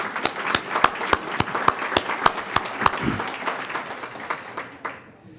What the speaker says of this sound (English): if we could just applaud and thank them for that